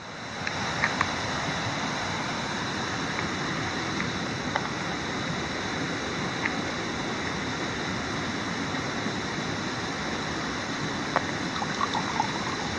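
A steady, broadband rush of falling water at Thoreau Falls in the White Mountains fills the scene, constant and fairly loud, with no voices.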